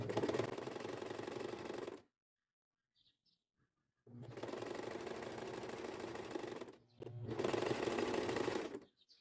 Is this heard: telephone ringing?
no